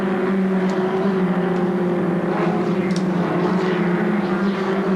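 Formula Ford race cars with 1600cc four-cylinder pushrod engines drone steadily at a distance, a sustained mechanical hum with faint bursts as cars pass by at a racetrack in 1989.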